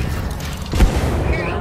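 A frag grenade goes off in a video game as a single deep, booming blast in the middle of a short stretch of rumbling game noise.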